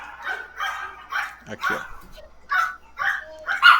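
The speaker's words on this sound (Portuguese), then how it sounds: "tem uns cachorros aí" Several dogs bark and yip in repeated bursts through an unmuted microphone on a live online call, the barking fairly near and loud, with people talking over and between the barks.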